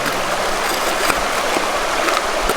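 Gold panning in a stream near Fairbanks, Alaska: steady, close rushing water fills the whole stretch, with a few brief splashes and sloshes cutting through. No one speaks.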